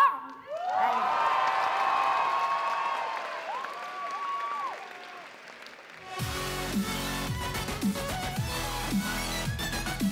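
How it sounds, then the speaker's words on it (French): Crowd at a cosplay contest at the Polymanga 2017 convention cheers and applauds a League of Legends group, loud and sustained at first, then fading as music with a steady beat takes over. "On les applaudit bien fort ?"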